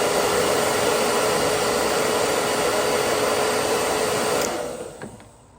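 A heat gun or hair dryer running on full heat, blowing a steady loud roaring hiss close by for several seconds, then winding down as it switches off.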